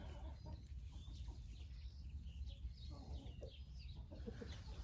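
A hen clucks faintly in a dacha yard, soft scattered clucks over a low background rumble, with other birds or farm animals faintly around.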